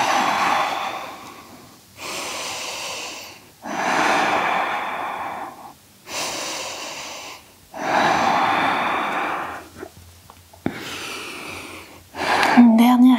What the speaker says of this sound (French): On va faire des grandes respirations dans le chien tête en bas.